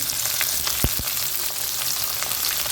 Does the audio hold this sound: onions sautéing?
yes